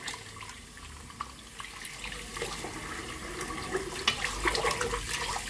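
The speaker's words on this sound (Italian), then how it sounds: "Allora, sciacquiamo gli attrezzi. Nel frattempo, ancora con l'acqua calda." Running tap water rinses shaving tools after a shave, a continuous hiss and splash of flowing water with small clatters as the tools move under the stream, faint and without talking.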